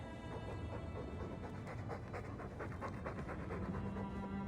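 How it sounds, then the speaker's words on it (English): A dog pants heavily and steadily in the video game Dragon Age 2, a continuous close, rhythmic breathing that runs throughout with no talk over it. "All that noisy dog breath, day in, day out."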